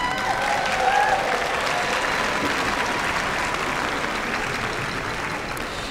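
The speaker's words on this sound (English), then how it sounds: "I think some applause is in order for all of you" A large commencement ceremony crowd breaks into sustained, even applause that fills the hall for several seconds without letting up.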